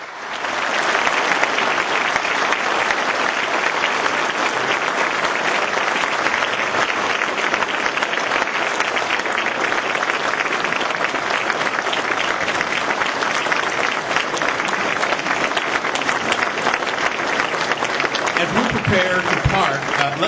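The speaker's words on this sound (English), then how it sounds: "let's have one more round of applause" Sustained audience applause for two panelists at an interfaith Muslim-Christian discussion, a dense, steady wash of many hands clapping at full strength for about twenty seconds with no talk over it.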